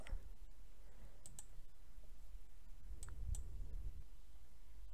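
A few quiet, sparse clicks from a computer keyboard as an answer is typed, faint and close against a low background hum.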